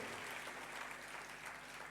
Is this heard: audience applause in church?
yes